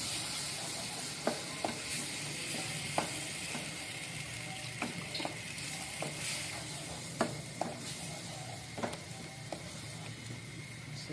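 Flour mixture cooking in a pan as milk is poured in a little at a time, a soft steady sizzle with scattered faint clicks of a spoon stirring, no voices.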